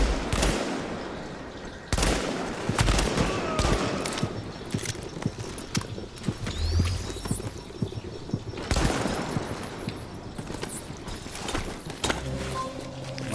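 Rapid bursts of gunfire in a third-person shooter game's Dark Zone, loud and close, with clusters of sharp shots and short pauses between volleys.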